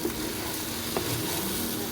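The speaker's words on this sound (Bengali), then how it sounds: "এবার আমি সসগুলো দিয়ে ভালো করে ভেজে নেবো।" Egg chowmein noodles fry with sauces in a pan, giving a steady, even sizzle with a faint clink partway through and no speech.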